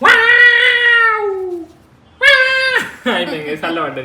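A pet cat meows loudly and close in long drawn-out cries, pausing between calls, while a person talks briefly over the last part.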